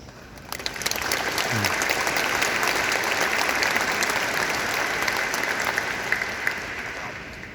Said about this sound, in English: everyone in this room and countless others deserves a round of applause